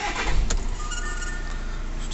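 VW Crafter 2.0 TDI diesel van engine cranking and catching, then settling into a steady idle close by, with no talk over it.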